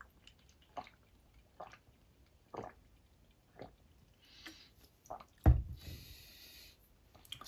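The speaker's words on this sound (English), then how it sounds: "just really trying to" A person drinks water in a quiet room: soft, isolated sips and swallows at irregular intervals, faint and close, with a louder gulp and liquid slosh near the end.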